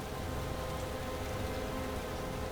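Steady rain falls outdoors, a dense, even hiss of drops on surfaces that continues close and unbroken throughout.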